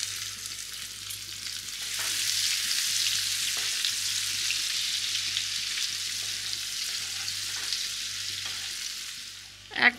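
Whole spices (cinnamon, cardamom, a bay leaf, cumin and peppercorns) fry with chopped onion in hot oil for a steamed egg curry, making a steady, continuous sizzle close by with occasional small crackles.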